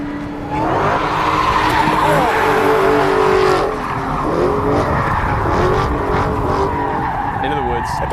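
A 1963 Chevy Impala, a Death Proof clone, brakes hard and skids through turns with loud sustained tire squeal and engine roar, the screech rising and falling across the corners.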